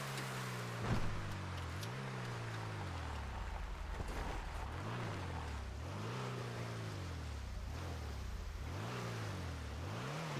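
Car engine in a roleplay video game, cycling steadily up and down in pitch as the driver accelerates and shifts repeatedly, with a constant hiss of wind or surf-like noise underneath and no talk.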